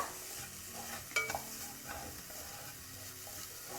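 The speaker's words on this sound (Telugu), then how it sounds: "పచ్చి కొబ్బరిని కూడా దూరగా వేగనివ్వాలి" A steady, quiet sizzle of fresh grated coconut dry-frying in a pan for rava laddu, with a few scraping stirs and a soft clink.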